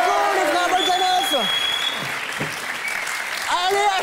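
Audience applause for the Bogdanoff twins on a French late-night TV show, a broad steady clatter of clapping that runs throughout, with voices talking and calling over it near the start and end.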